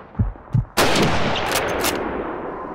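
A sniper rifle shot in the Call of Duty 2 video game: two soft thumps, then one loud, sharp crack that rings and fades slowly, with no talking.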